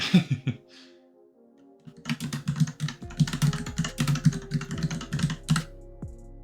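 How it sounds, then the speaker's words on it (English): Loud mechanical computer keyboard typing in close, rapid clusters of clacking keystrokes with short pauses, heard alone against a low background hum. "Please don't mind my background noise, my keyboard's very loud."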